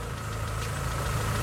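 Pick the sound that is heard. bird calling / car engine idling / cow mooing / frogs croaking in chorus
car engine idling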